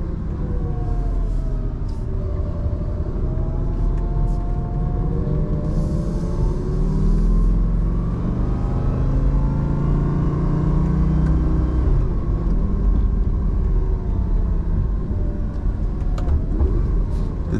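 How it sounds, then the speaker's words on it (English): A 2006 Lamborghini Gallardo V10 roars loudly while driving, its engine note rising and falling through gear changes in a continuous close rumble with no talk. "I will be quiet so you guys can hear that beautiful V10 roaring here."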